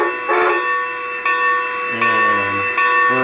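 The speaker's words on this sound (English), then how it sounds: "we've got to get the bell ringing before we pull out of the station" Bell on a C&S Mogul G-scale model steam locomotive rings in a steady series of clear metallic strokes, close and loud, with no talk over it.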